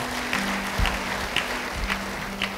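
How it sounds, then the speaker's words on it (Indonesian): Audience applause at a church sermon, a steady wash of clapping held at an even level for a few seconds, with faint low thumps and a brief hum underneath. "Yang percaya, beri tepuk tangan bagi dia."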